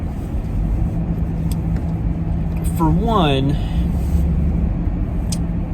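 Steady low road rumble fills a moving car's cabin during a ride, a continuous hum beneath a person talking close to the microphone throughout.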